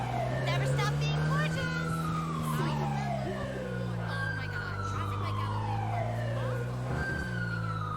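Police sirens wail in repeated rising and falling sweeps during a car chase in the GTA 5 video game, loud and continuous over a low engine drone, with someone talking over them.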